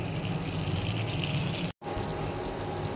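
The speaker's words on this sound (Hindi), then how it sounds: "अब इसमें आ गया है बारी पानी मिलाने का, इसमें मिलाते हैं जितना ज़रूरत है इतना पानी" Water poured into a pan of frying country-style desi chicken, a steady broadband gushing that runs almost three seconds, broken by one very brief gap.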